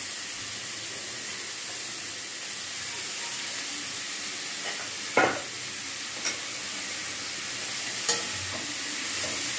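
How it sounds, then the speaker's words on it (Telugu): Peas and potatoes being stirred in a pan for paneer rice, a steady soft sizzle with a few louder scraping clinks of the spoon against the pan, no talking. "బాగా మిక్స్ చేసుకోవాలి."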